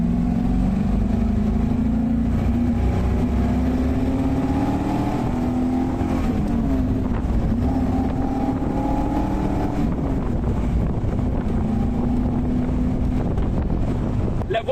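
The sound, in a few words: Chevrolet Corvette C1 engine accelerating through gears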